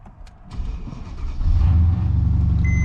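A car engine turns over and catches, then runs at a steady, throaty idle, close and loud.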